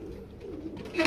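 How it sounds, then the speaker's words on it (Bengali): A short burst of low cooing from Benaras breeding pigeons sounds close by, ending in a brighter call. "এগুলো সব বেনারস কবুতর"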